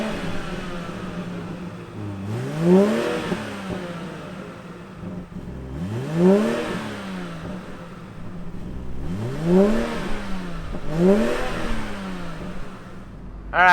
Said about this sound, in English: why don't we fire up this inline-6 and hear what it sounds like.